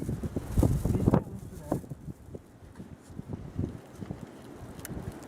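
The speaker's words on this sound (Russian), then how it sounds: "Ветром задувает." Wind gusts buffet the microphone while a fire is being lit outdoors in winter, with low rumbling bursts that are loudest at the start, then fade under intermittent talking.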